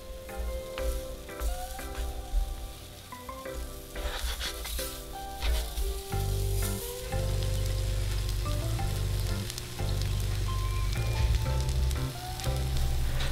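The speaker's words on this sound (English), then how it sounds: "I wanted to pan fry it with some oil" A soybean rice cake pan-fries in oil, producing a close, steady sizzle that grows louder and denser partway through, alongside faint clinks and higher tonal sounds, with no one speaking.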